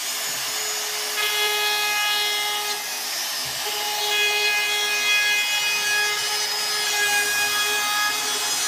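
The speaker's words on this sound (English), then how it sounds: "I'm gonna router it. Just put a simple 1/8 inch round over on it." A router cuts a 1/8 inch round-over along a wooden stair skirt, giving a loud, steady, high whine with a continuous grinding hiss. It is close and runs unbroken throughout, with no voices.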